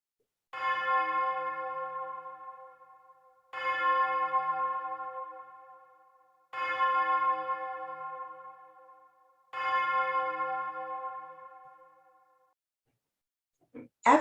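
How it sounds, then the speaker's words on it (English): A single large chapel bell in Chesapeake, Virginia strikes four slow, evenly spaced times, each ring swelling into a rich, long humming decay before the next, heard clearly and alone with a quiet pause and a faint knock at the end. "The church bell rang for Sunday morning worship services, funerals, and emergencies in the community."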